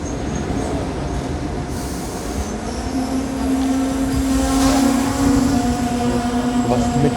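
An SNCB M7 train at Welkenraedt station, heard from aboard as a steady loud rumble with a sustained squealing tone rising partway through and faint rattles.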